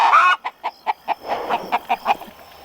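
Backyard chickens clucking up close in a quick run of about ten short, evenly spaced clucks after an opening drawn-out call.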